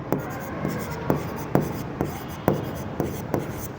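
A pen writes an accounting entry on the debit side of a Profit and Loss account, making a steady series of short, crisp scratching strokes on paper, close and clear with no talk.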